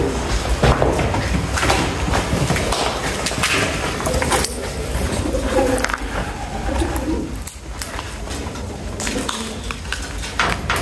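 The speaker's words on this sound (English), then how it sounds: "Just the pigeons." Pigeons in an abandoned RAF airbase building at Kenley coo and stir with loud, dense activity throughout, a busy mix of calls and clattering movement echoing in the enclosed space.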